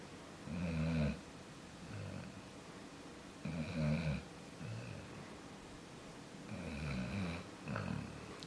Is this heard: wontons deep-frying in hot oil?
no